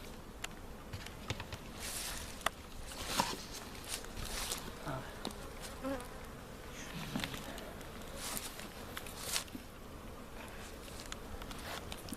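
Bees buzz around a strong hive while pollen is being collected, a continuous close hum with scattered small knocks and shuffles, and people speak occasionally over it.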